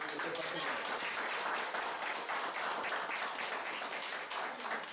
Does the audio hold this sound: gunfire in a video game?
no